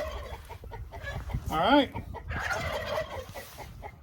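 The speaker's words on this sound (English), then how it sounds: "we're going to see if the chickens laid any eggs" Chickens cluck in a coop on a morning egg check, with one loud drawn-out squawk in the middle over a busy, continuous background of clucking; a person briefly speaks.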